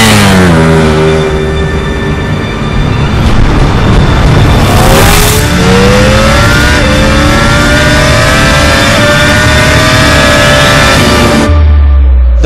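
Ducati Panigale V4 S superbike ridden on the Sepang race circuit in Malaysia: loud, close engine howl climbing through the revs with gear changes and sustained high-pitched acceleration, no voices.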